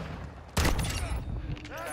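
A shotgun blast in a video game bursts out loudly near the midpoint of a short stretch of background game noise and faint voices.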